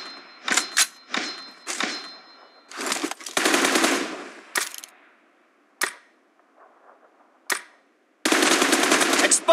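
M416 machine gun fire from the PUBG Mobile game rings out in several sharp rapid bursts of varying length, loud and close, separated by short gaps and single shots.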